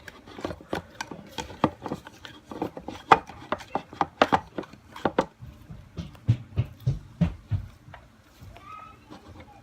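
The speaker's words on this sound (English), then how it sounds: "And then knead that in, and then keep on going around till you got all your slime." Clear slime kneaded by hand gives a quick series of wet squelches and sticky pops in an uneven rhythm, close and fairly quiet.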